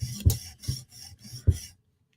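The tip of a Spyderco Tanto M4 PM2 knife rasped on a sharpening stone in four or five short, quick strokes, close and crisp, then silence.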